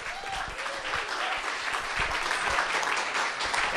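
Sustained audience applause at a literary reading event, a steady dense wash of many hands clapping at even loudness throughout.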